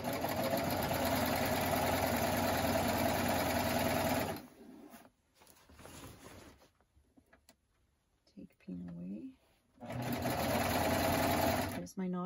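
Serger sewing machine stitching the side seam of a shirt, a loud steady whirring run, then a pause filled with soft fabric handling and brief short stitching bursts, before another sustained run at full speed.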